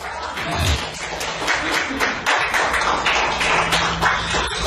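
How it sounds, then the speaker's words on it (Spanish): Church congregation applauding during a sermon on Romans, a dense continuous patter of many hands clapping at moderate loudness. "denle un aplauso al Señor"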